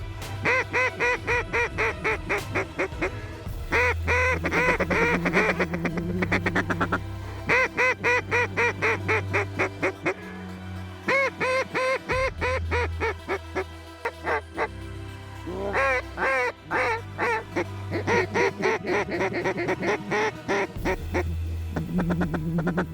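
Mallard ducks quacking in a flooded bottomland, loud rapid runs of repeated calls, several birds overlapping and continuing almost without pause through the whole stretch.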